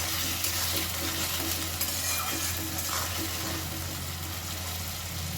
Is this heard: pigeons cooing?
no